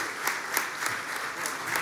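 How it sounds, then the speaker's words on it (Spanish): Audience at a business forum in Spain breaks into strong, steady applause, a dense wash of many clapping hands sustained from start to finish with no voices over it. "un fuerte aplauso, por favor"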